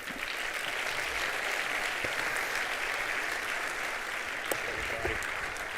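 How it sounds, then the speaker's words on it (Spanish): An audience at a liberal-thinkers event gives a steady round of applause for a speaker, dense even clapping throughout, moderately distant and uninterrupted. "un aplauso, por favor, para Axel"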